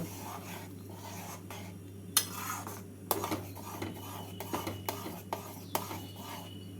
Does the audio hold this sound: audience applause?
no